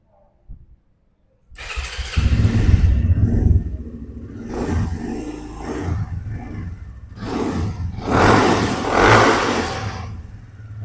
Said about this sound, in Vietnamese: Em sẽ test máy lên và nổ máy lên và quay chi tiết xuống cái bồ cho anh em nghe tiếng máy nha